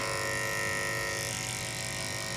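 Electric hair clipper running steadily with its blade dipped in cleaning solution, a constant loud buzzing hum with a bright whirring edge throughout, no talk.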